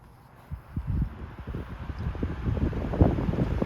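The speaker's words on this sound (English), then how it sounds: "let's pop the oscillation and turn it on high" A 1970s Super 16-inch oscillating fan set to high starts up, its blades pushing a rising, buffeting whoosh of air that builds within a second and holds steady and close, with no talk.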